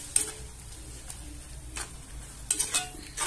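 Mushrooms are sautéed in a pan while being stirred, giving a faint background sizzle broken by a few soft scrapes and light clinks of a utensil against the pan, with no talking.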